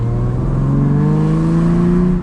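A 1979 Jaguar XJ-S engine with a manual 5-speed revs hard and steadily climbs in pitch, loud and close, with a strained mechanical whine and no voices.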